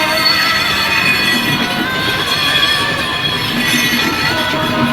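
At the Jurani railway gate, a train bound for Benapole passes close by, its wheels squealing and clattering in a loud, sustained roar that holds steady for several seconds.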